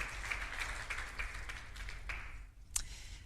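A church congregation claps for a guest during a service: light, evenly spaced handclaps ring out softly in a quiet room, then trail off with a final sharp clap.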